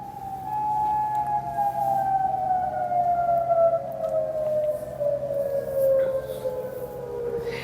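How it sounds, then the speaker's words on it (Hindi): Air raid sirens wail in Kuwait, a loud sustained tone slowly sliding downward in pitch for several seconds, with a second siren layered faintly behind it. "ये वो रेड सायरन बज रहे हैं"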